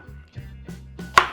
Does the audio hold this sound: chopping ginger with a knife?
yes